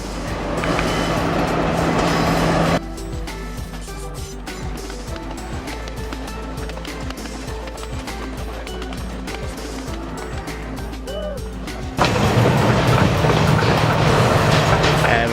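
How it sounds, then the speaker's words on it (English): A train rumbles past with rhythmic clattering on the rails between Ella and Kandy, Sri Lanka, growing louder toward the end as it nears, with faint voices mixed in. "The train is coming!"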